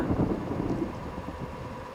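Rain falls in the Indonesian bus driving game Bus Simulator Indonesia, a steady moderate wash of rainfall with low rumbling underneath and no other sounds.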